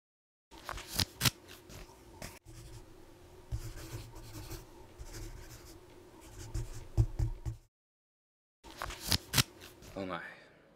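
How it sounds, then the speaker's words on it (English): Pencil scratching across paper in quick strokes and scribbles, close and fairly quiet, broken by a short pause, with soft sounds of handling between strokes. "I'm going to give you a piece of paper and a pencil. I want you to draw whatever comes to mind first."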